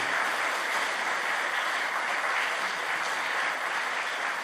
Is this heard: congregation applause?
yes